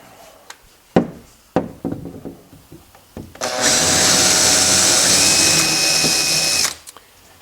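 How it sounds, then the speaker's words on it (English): After a few knocks and handling noises, a power drill countersinks a hole in wood in one steady, loud whine of about three seconds before stopping, close up with no speech. "Then I'm going to countersink that hole."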